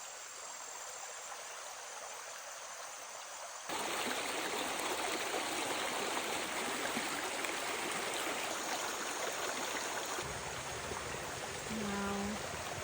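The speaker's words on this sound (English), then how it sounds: "Can you hear why? Minus the cars. We got a creek." A creek flows steadily outdoors, a broad continuous rush of water that grows louder and nearer partway through, with faint bird calls near the end.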